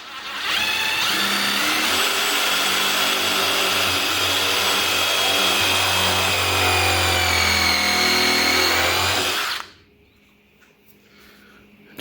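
A power drill bores into a wooden fence gate, whining loud and steady for about nine seconds before cutting off abruptly into quiet.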